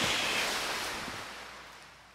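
A short, full splash of water as a caught fish is dropped back into a frozen lake, washing out loud and then fading over about two seconds.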